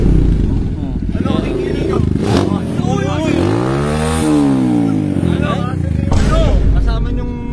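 A motorcycle engine revs hard and close, the pitch sweeping up and back down, with voices talking over the loud clattering exhaust.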